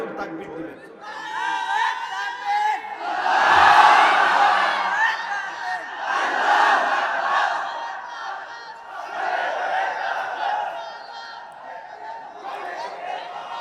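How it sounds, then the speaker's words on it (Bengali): Large crowd at an Islamic mahfil in Pabna roars out takbir, several loud chanted shouts of many voices rising and falling in waves, one after another. "একটু হাতটা উঠায় রাখেন, জোরে একজন তাকবীর দিবেন।"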